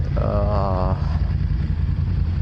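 A group of motorcycles, including a Honda CB650R, a GS850, an XSR900 and a Venturi 500, idles in a steady, loud low rumble throughout, with a brief higher engine tone rising early on.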